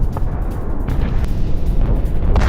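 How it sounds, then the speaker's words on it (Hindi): Rumbling, dense roar of explosions from Israeli air strikes on Hezbollah launch pads, loud and continuous with low booming bursts layered throughout. "ये हिजबुल्लाह के ठिकानों पर हुई बमबारी की वो तस्वीर जहां हवाई हमलों में हिजबुल्लाह के 10 लॉन्चर पैड्स को ध्वस्त"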